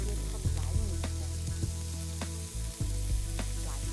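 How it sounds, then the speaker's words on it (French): Minced meat searing in hot oil in a non-stick pan, a steady close sizzle with scattered sharp crackles and brief dips as portions are added or moved. "Chauffez l'huile dans une poêle anti-adhésive, saisir la viande par portion environ 2 minutes."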